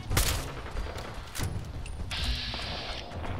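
Gunfire from the video game Fallout 4: a couple of sharp shots near the start and another around the middle, followed by a sustained high electronic whine, over a steady low game rumble.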